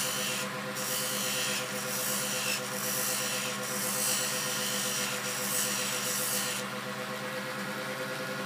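A file rasps a bevel onto the edge of a solid wax dictation cylinder, about six soft, even strokes in steady rhythm, close and quiet.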